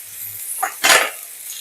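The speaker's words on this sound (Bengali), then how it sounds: "এবার দুটোকে একসঙ্গে একটু ভেজে নেব।" Chopped spring onions and potatoes frying together in a pan, a soft steady sizzle with a brief stirring scrape and a louder burst of hiss midway, close and alone.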